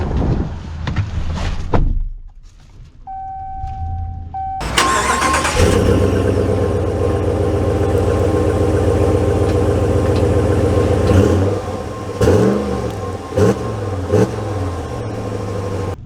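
A 2023 Ram 1500 Rebel Night Edition pickup cranks and fires up nearby, a door thud and chime beforehand, then settles into a loud steady idle broken by several short revs toward the end.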